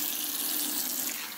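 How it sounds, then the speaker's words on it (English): Hot water runs at full power from a kitchen tap into a sink, a steady, loud, unbroken rushing hiss with no talk. "This is full power of hot water."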